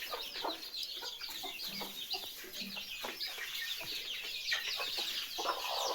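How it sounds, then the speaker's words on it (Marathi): A brooding hen sheltering her chicks under her wings clucks softly and repeatedly, with thin chick peeps and other farm-yard chicken sounds mixed in, steady and fairly close throughout. "इथं पण आपली कोंबडी आहे जिने आपल्या पंखाखाली पिल्लं घेतलेली आहेत."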